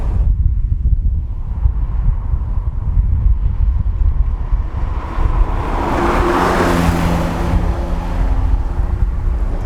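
A 1989 Lotus Esprit Turbo SE with its 4-cylinder turbo engine drones steadily while driving, with wind noise throughout. A clearer engine tone rises out of the rumble about two-thirds of the way through.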